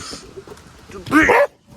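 A dog gives one loud, close bark that lasts a moment and follows softer whimpering sounds, during an excited outdoor moment with a tornado threat.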